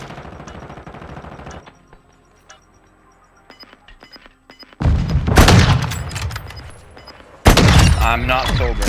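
Video game gunfire in a first-person shooter crackles loud and close in two heavy bursts, the first rattling for around two seconds and the second cutting in near the end, with quieter clicks and voices between.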